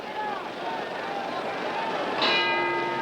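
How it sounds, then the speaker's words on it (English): A boxing bell rings at about 2.2 seconds to end round seven of the 1965 Floyd Patterson versus George Chuvalo heavyweight fight at Madison Square Garden, New York, its bright tone ringing on over a noisy arena crowd. "There's the bell ending round 7 here at Madison Square Garden."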